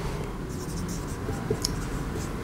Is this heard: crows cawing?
no